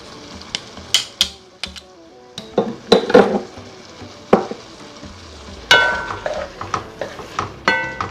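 Fresh ginger and garlic sizzle and crackle in a hot frying pan while being stirred for pineapple shrimp fried rice, with clanking spatula strikes against the pan punctuating the steady frying hiss, close and fairly loud, no talking.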